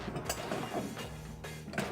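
The threaded metal top of a mocha coffee pot is twisted onto its base, giving close, quiet scraping and grinding clicks in a few short turns.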